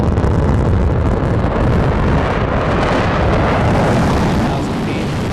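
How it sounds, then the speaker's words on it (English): A Blue Origin rocket booster's engine relighting during its descent, heard as a continuous loud broadband roar with heavy wind rumble that holds steady throughout and eases slightly at the end. "There's that engine relight."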